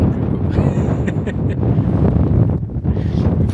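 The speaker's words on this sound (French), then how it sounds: "là il y a du vent" Strong wind buffets the microphone on the wild coast of the Faroe Islands, a loud, continuous low roar with gusty swells throughout.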